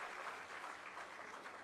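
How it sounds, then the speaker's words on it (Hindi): An audience at a school academic block inauguration, a brief dense wash of applause, faint and distant, with no individual claps standing out. "जोरदार तालियों से स्वागत"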